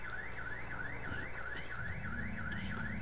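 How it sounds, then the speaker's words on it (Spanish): A car alarm blares inside the video game GTA 4, a loud continuous wailing siren that sweeps up and down in a regular rhythm, with engine rumble underneath and no talk. "Apágate alarma, apágate. Uy, vamos a esperar acá antes de que venga la policía. ¿Cómo se apaga la alarma?"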